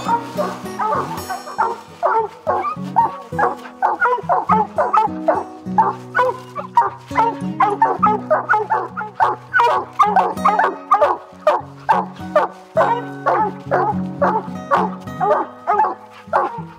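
Hunting dogs baying at a raccoon treed in the Ozark hills: continuous overlapping barks and yips from several dogs, loud and close, with a steady rhythm throughout.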